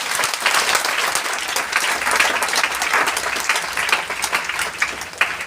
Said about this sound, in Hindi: जोरदार ताली आप सबके लिए।